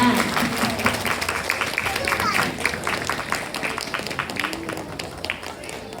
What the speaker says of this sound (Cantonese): 請大家再次俾熱烈嘅掌聲